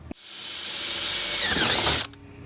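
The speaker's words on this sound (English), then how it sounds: "the first thing we're gonna have to do is drill a hole in there so that we can actually bolt the winch onto the bumper" A power drill bores a hole through a steel Jeep bumper to mount a Badlands winch, a single sustained whining run of about two seconds that rises in pitch and strain, then cuts off sharply.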